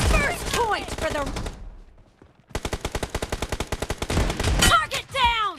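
Repeated gunfire in the mobile game BGMI during a team deathmatch round, with double-barrel shotgun blasts in a fast, evenly spaced burst of sharp reports, plus game voice callouts before and after.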